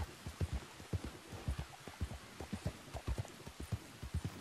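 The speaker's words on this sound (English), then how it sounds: "Jump back on your horse. You got this, girl. And ride back to that spot." Horse hooves clip-clopping in a steady galloping rhythm while riding in the video game Red Dead Redemption 2, close and continuous, with faint rustling behind.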